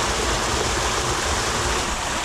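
A tiny mountain stream gushes out from under grass, a steady close-up rush of flowing water that never lets up over the whole stretch, with no voices.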